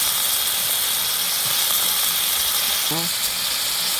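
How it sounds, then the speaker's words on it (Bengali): Potato cubes frying in a pan with turmeric and salt for a liver bhuna, a steady broad sizzle and hiss running the whole time, with a brief clink or scrape near the end. "আলুটা আমি এখন ভেজে নিব"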